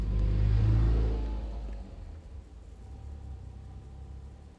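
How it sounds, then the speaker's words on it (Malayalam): A Maruti Jimny engine starts with a loud low rumble that fades within two seconds into a steady, softer idle. "ഇഞ്ചിൻ ഒന്ന് സ്റ്റാർട്ട് ചെയ്യണം കേട്ടോ ഐഡിലിങ്ങിൽ ഇടണം"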